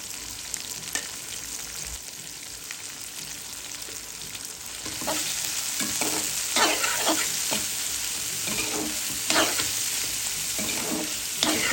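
Turmeric, salt and spices fry in a pan while being stirred, a steady close sizzle with irregular scraping strokes that grows louder and busier partway through, without talk.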